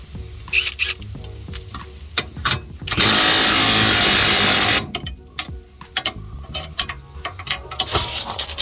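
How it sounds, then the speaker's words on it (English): An impact wrench rattles on a coilover bolt of a MK5 Volkswagen Golf GTI being lowered, firing one sustained loud burst of about two seconds between scattered clanks and workshop knocks. "then put the rattle gun on it when you've got it loose enough and you've cracked the bolt"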